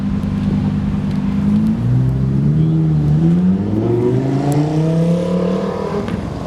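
A Lamborghini Aventador engine revs up, its pitch climbing in rising sweeps over several seconds, loud and close with no voices.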